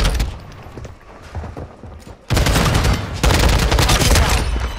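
A stun grenade goes off in the Call of Duty MWII shooter amid bursts of gunfire, with sharp cracks early on, a sudden loud blast partway through and dense crackling that carries on afterwards.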